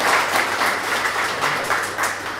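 An audience at a graduation ceremony applauds to welcome the program director, with steady, dense clapping that continues throughout at a fairly loud level.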